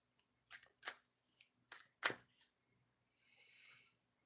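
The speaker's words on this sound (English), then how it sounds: "Shuffling the decks." Decks of cards are riffled and shuffled in several quick crisp bursts, close and clear, followed by a softer sliding rustle as the deck settles.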